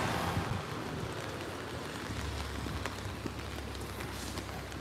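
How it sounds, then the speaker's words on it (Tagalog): Steady rain falls outdoors in Canada after snow, a broad, continuous hiss with scattered drops and faint low rumble throughout, no voices. "Umuulan tayo ngayon."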